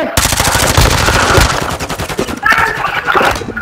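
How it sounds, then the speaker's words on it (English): Rapid automatic gunfire in the Call of Duty: Modern Warfare II video game, loud close bursts of shots followed by shorter, more scattered volleys. "They're shooting me."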